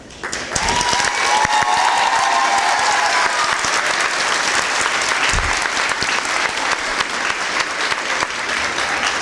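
An audience at an elementary school fifth grade promotion ceremony claps in a sustained burst of applause, loud and dense from start to finish, with no talking over it.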